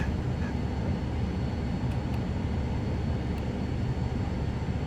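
A Cirrus Vision Jet taxis in Microsoft Flight Simulator, giving a steady, loud, low engine rumble with an even broadband roar that holds without a break throughout.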